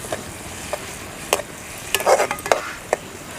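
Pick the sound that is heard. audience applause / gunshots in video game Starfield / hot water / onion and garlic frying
onion and garlic frying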